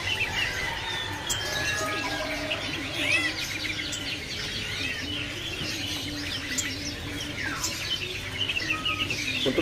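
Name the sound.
spotted dove (burung puter) calling at bird market kiosk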